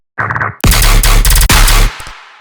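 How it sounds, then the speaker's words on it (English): Rapid machine gun bursts as a sound effect in a heavy dubstep track, loud, close, and punchy, three quick volleys of clipped shots ending in a short decaying tail. "at the end phrase we have these guns going fast"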